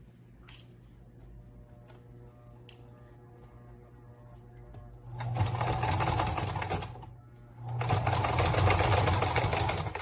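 A sewing machine stitches across the upturned pleats of a fabric mask in two loud runs of rapid, whirring needle bursts separated by a brief pause, following a quieter stretch of small handling clicks.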